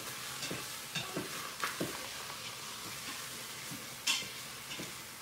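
Pork roast searing in an Instant Pot, with a soft steady sizzle broken by scattered light clicks and taps of a utensil stirring. It is quiet and close, and no one talks.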